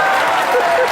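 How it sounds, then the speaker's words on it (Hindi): Studio audience on Kapil's comedy show bursts into loud, dense, continuous applause, close and filling the room, with crowd noise under it. "आज किंग खाना यहाँ पे आए हुए, उनके एक बार जोरदार ताली।"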